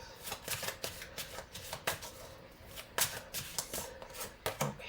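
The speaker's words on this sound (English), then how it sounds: "I'm gonna pick one more card" Tarot cards are shuffled in quick, steady riffling flicks, close but fairly quiet, with no voices.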